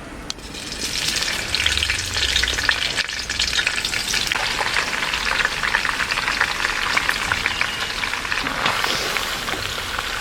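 Capsicum hits hot oil in a pan for a Kerala-style capsicum chicken, bursting into a loud, dense sizzle that crackles steadily for about ten seconds with no talking.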